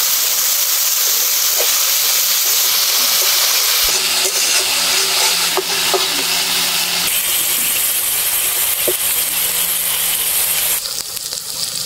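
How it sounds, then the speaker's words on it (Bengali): Ground spices, including coriander powder and Kashmiri chilli powder, sizzle steadily in a pan for a chicken and elephant-foot-yam curry, with a loud continuous hiss and a few scraping stirs. "এবারে মশলাগুলো ভালোভাবে কষিয়ে নেব"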